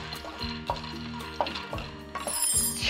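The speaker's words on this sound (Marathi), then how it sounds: "छानपैकी ना खमंग असे शेंगदाणे भाजून झालेले आहेत" Peanuts dry-roast on a griddle pan, stirred with light scraping and occasional clinks of a utensil against the pan over a soft sizzling hiss, close and without talking.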